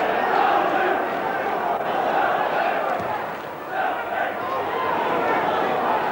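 Derby County football crowd at a League Cup match against Southend United, a broad continuous roar of many voices in a stadium, swelling and dipping slightly, with a commentator talking over it.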